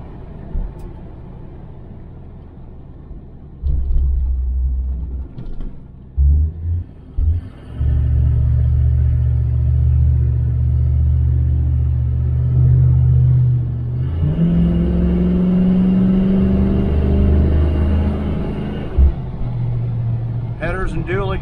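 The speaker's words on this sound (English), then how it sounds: "exhaust and whatever mufflers they are sound pretty good" A 1978 Chevrolet El Camino SS with aftermarket mufflers rumbles while driving on the road, its deep, steady exhaust drone close and loud, swelling as it accelerates, with someone talking over it.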